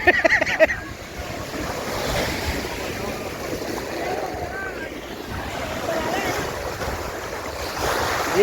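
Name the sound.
sea waves at Dhanushkodi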